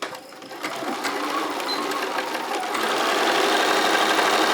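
A sewing machine stitches a bag in a steady, close, continuous mechanical whir that grows slightly louder toward the end, with no talk.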